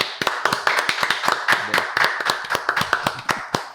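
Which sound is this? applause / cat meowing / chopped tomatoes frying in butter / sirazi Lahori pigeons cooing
applause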